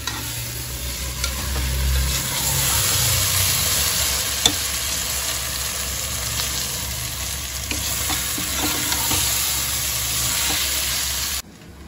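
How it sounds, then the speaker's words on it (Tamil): Prawn biryani masala sautéing in a pan, a loud, dense, continuous sizzle with stirring scrapes that runs steadily throughout before cutting off abruptly at the end. "இப்போ வாங்க நம்ம இதை வதக்கிடலாம்."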